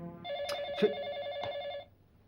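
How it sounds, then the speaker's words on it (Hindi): An old-style telephone bell rings in a scene from an Indian TV serial, a rapid electric trill repeating in short bursts before cutting off. "देविका का फोन"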